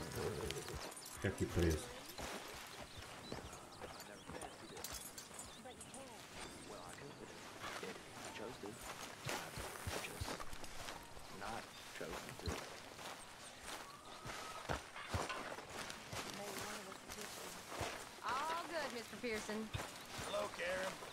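Horse hooves clop in a Western cowboy video game, shuffling at a moderate pace beneath frequent game dialogue and chatter in Portuguese.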